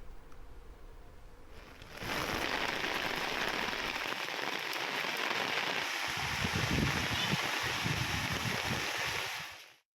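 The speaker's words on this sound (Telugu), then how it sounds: "ప్రకాశం, నెల్లూరు జిల్లాల్లో తేలికపాటి వానలు పడుతున్నాయి." Rain falling, a dense, steady hiss that swells in loudly after about two seconds and holds until it cuts off at the end, with no voices.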